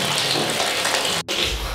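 A jacuzzi filling with water, a loud steady gushing rush that pours continuously with one brief dropout near the end and no voices.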